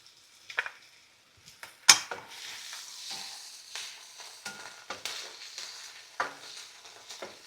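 Shrimp and green peas stir-fry for Lao-style fried rice, a moderate sizzle under repeated scraping and clinking of a spatula against the pan, with sharp strikes scattered irregularly throughout.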